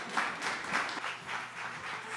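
A modest crowd welcomes a speaker onstage at a Cloud Native Costa Rica tech meetup with light, fairly quiet applause, scattered claps rising and falling over a couple of seconds.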